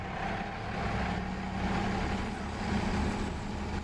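A tractor engine with a galvanized straight-pipe exhaust idles in Farming Simulator, a steady, low, rumbling drone held at constant loudness throughout, close and unbroken, with no voices.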